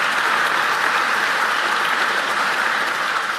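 Loud, dense applause from a crowd at a county address fills the whole stretch, a continuous wash of overlapping claps with no voices over it.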